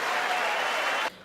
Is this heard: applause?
yes